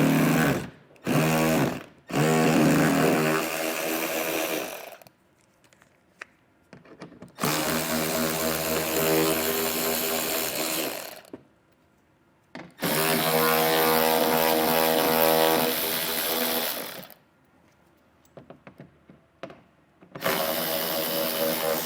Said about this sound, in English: we'll grab an 8mm socket and get all of them pulled out